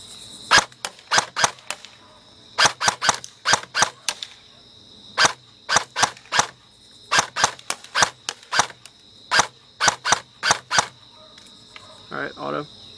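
An airsoft rifle fires single semi-auto shots with 0.25 gram BBs from a bipod at a 50-foot target, sharp snapping cracks in irregular bursts over a faint steady hum, with a brief voice near the end.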